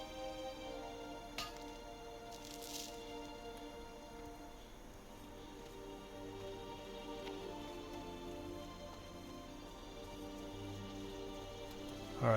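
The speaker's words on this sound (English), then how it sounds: "I thought it was raining outside, but it's actually the game sound." Steady, soft patter of video game rain falls continuously throughout, with faint sustained tones humming underneath and no talking.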